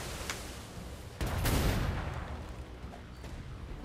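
Small-arms and cannon fire strike a ship's sails in a naval battle video game, with a heavy boom at about a second in, trailing off into a rumbling, crackling wash of distant shots.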